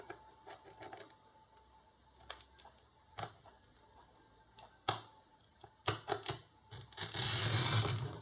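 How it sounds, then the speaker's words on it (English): Plastic screen protector sheet for an oscilloscope cut along a metal ruler, sparse sharp ticks and scratches building to a louder sustained scraping rasp at the end, close and quiet. "We must apply a force here and do a cut."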